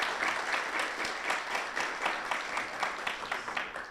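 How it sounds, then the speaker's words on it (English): An audience at a university thesis competition final bursts into sustained applause, dense clapping that pulses slightly and tapers a little toward the end, with no talking over it. "How about a round of applause for these?"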